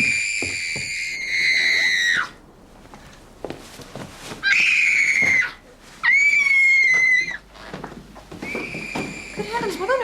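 Shrill, high-pitched screams come in several sustained bursts, separated by short gaps filled with hoof clatter and a horse's whinny, loud and close, with voices briefly heard between them.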